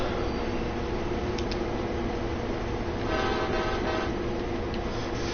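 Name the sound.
runaway train from the video game Train Sim World 2020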